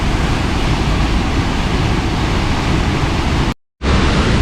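Waterfall at Ladder Creek, upper falls pouring through a hole in the rock into pools, North Cascades near Newhalem: loud, steady broadband roar of rushing water, close, continuous with a brief dropout near the end.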